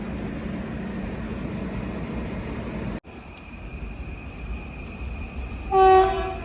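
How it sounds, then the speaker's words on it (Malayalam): Kannur–Thiruvananthapuram Jan Shatabdi, hauled by an Arakkonam WAP-4 electric locomotive on the Ernakulam–Thrissur line in Kerala, rumbles steadily, cuts abruptly to a quieter roll, then sounds one loud, short horn blast near the end. "അറക്കോണം WP4 ആയിട്ട് വരുന്ന ജനശതാബ്ദി ആയിട്ടാണ് കാണുന്നത്. കണ്ണൂർ തിരുവനന്തപുരം ജനശതാബ്ദി."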